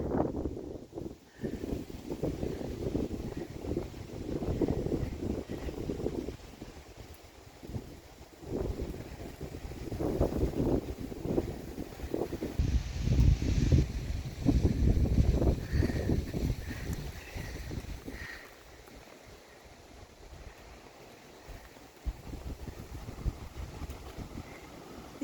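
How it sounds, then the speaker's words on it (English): Strong winter wind on an off-grid homestead roars and buffets the microphone in heavy gusts, loud and continuous throughout, with no voices. "Super windy today."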